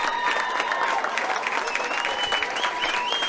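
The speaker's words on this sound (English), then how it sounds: "The applause rising now." Crowd applause rises at the 2025 Leinster Junior Club Championship football final between St Colmcilles and Muckalee, a steady dense wash of clapping from a large crowd with a commentator's voice over it.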